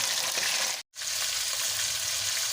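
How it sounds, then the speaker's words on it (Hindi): Chicken frying in hot oil with garlic-ginger paste for a chicken karahi, a loud steady sizzle with a brief silent break near the start, then continuing dense crackling frying. "हम इसमें चिकन डाल के इसको भी हम अच्छी तरह से भून लेंगे।"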